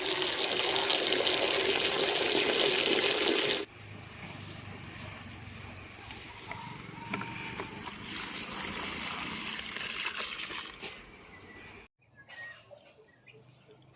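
Water splashes onto flower plants on a rooftop, a loud gushing spray for several seconds that drops to a quieter trickle and patter, then briefly stops, with faint outdoor background.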